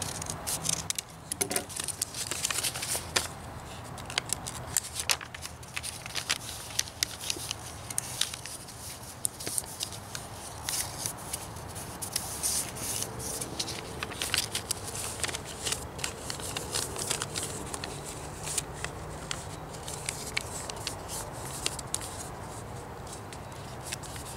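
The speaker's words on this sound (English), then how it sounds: "we're going to trim this off to see if that's right" Material being trimmed for a Dollar Tree three-tier Christmas tree tray, heard as continuous close snipping, rustling and crinkling that runs without pause at moderate volume.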